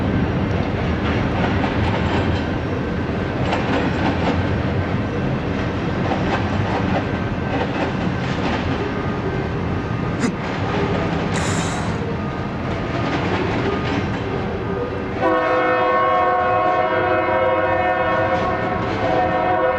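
A train with a Unipack caboose rumbles past near Denver with clattering wheels and steady rolling noise, then a loud, sustained horn blast sounds near the end.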